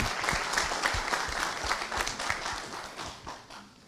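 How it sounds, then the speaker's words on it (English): Sustained audience applause fills a conference hall after a plenary talk at the ICCMS 2025 meeting at IIT Tirupati, a steady dense clatter of many hands that holds level and begins to thin toward the end. "a big applause for him again"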